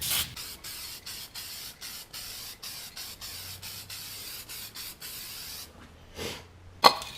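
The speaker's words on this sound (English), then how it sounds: "Just go ahead and give a few sprays here" An aerosol can sprays in a steady series of short hissing bursts under a car jacked up for rust repair, close and even in rhythm, ending with a single sharp clatter.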